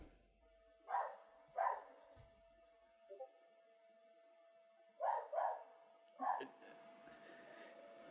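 A dog indoors gives a handful of separate barks with whimpers between them, moderately close over a quiet room with a faint steady hum.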